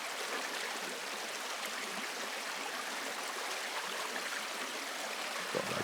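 A stream on a hiking trail flows steadily, a dense continuous rush and babble of water heard close and even throughout, with no voices.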